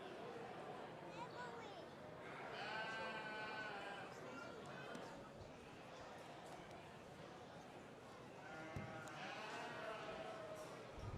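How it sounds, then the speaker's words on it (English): Sheep bleat repeatedly during a ewe lamb division at a sheep show in the Schulte Complex, with calls rising at intervals over a steady arena murmur of crowd chatter and announcing. "Aaron Fangman with his commercial ewe lamb"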